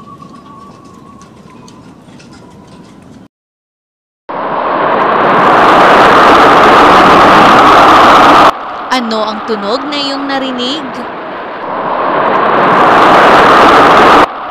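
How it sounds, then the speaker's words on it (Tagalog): A tornado roars as a loud, continuous broadband rush that sweeps in after a short spoken question and a brief silence. A wailing warning siren cuts through the noise partway along, and the roar then resumes. "Tama, ito ay tunog ng buhawi."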